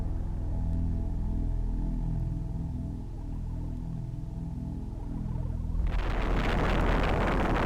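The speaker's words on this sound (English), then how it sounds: "Sucking up all the energy and then exploding." A low droning rumble builds, then a loud, sudden video game explosion erupts near the end and roars on with heavy crackling noise.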